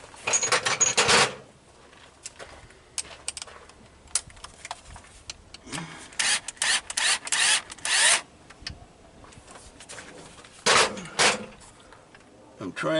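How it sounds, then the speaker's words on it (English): Close ratcheting and wrench clicks come in short bursts as the alternator adjuster bolt is loosened on a Mercedes-Benz W123 engine, with bursts of metal tool noise separated by pauses. "We've got to loosen that adjuster bolt some more."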